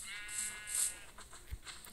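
A sheep in Minecraft Pocket Edition bleats in a short, wavering, fairly close call, followed by soft clicks and rustles from the game.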